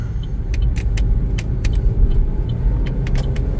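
A 2025 Chevrolet Trax 1RS on a test drive, with steady low road rumble and engine hum from inside the cabin, broken by faint light clicks and ticks throughout.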